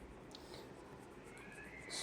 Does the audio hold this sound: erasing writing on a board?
yes